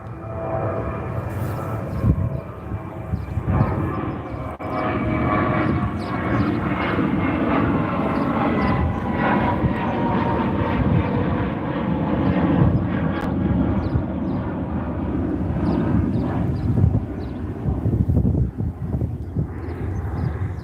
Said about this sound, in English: Now, I'm gonna let this plane pass.